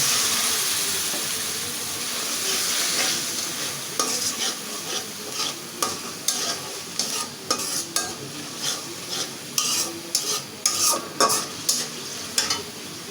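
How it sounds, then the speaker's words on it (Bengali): Spice paste of turmeric, chili, coriander powder, salt and a splash of water sautéed with prawns, ginger and garlic: a hissing sizzle overlaid by rhythmic, evenly spaced spatula strokes scraping the pan. "হলুদের গুড়ি মরিচের গুড়ি ধুনার গুড়ি একটু লবণ মশলাটা আমি ভালো করে কষিয়ে নেব"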